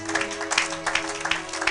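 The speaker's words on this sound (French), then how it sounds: "Acclamez pour la gloire de notre Dieu." A church congregation claps together, a dense burst of hand applause that fills the short moment at close range, with faint voices mixed in.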